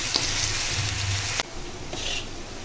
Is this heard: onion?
yes